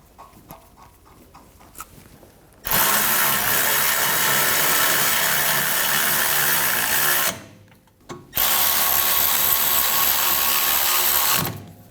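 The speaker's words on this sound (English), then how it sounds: "Get those started, then we'll tighten those down." A power tool runs loud and steady for several seconds, pauses briefly, then runs again while new bolts are tightened on the rear brakes of a 2010-2014 Volkswagen GTI. Quiet clicks come before it starts.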